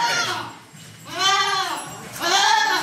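A Beetal goat on a goat farm bleats twice, a drawn-out wavering cry followed by a shorter one, close by over a steady murmur of background noise.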